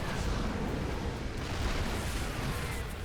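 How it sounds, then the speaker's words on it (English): Sieged tanks in StarCraft 2 pound at a cannon, a dense, continuous roar of booming artillery blasts and crackling impacts, packed together at a steady moderate loudness with no talk. "our tanks will be sieging and start to pick their way through a cannon"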